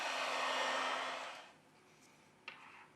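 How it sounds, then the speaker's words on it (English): A heat gun blows hot air onto the screen of a Xiaomi Mi Mix phone at 90 °C, a loud, steady airy roar that fades out after about a second and a half, followed by a short click. "With the help of a heat gun, we apply 90 Celsius degrees during 4 minutes"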